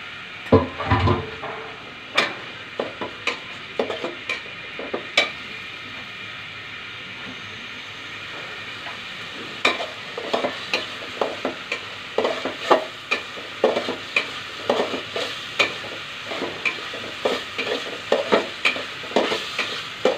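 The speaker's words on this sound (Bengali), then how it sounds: "চিংড়ি মাছটা ভালো করে কষিয়ে নিব।" Prawns and spice paste stir-fried in a pan, steady sizzling under repeated sharp scraping strokes of a spatula, irregular clacks through most of the stretch with a brief quiet patch early on; no talking.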